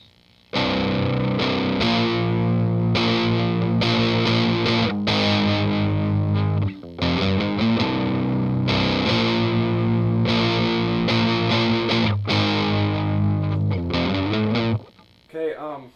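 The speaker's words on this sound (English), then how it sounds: "these are all bar chords" Overdriven electric guitar chugs through strummed bar chords of the chorus of a song, with brief stops between phrases, loud and up close, ending abruptly.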